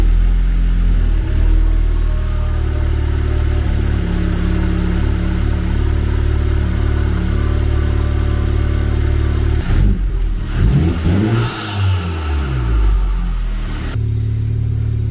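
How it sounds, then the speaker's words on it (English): A 10th-generation Honda Civic Type R engine idles loudly and steadily close by, its low rumble shifting briefly toward the end as the revs waver. "you're then gonna start the car and just idle it for a little bit so that the coolant can circulate"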